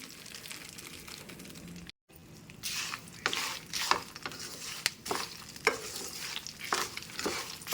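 Crackling peanuts frying in hot oil with intermittent stirring scrapes and spatters, quieter at first, then a short gap and busier sizzling bursts.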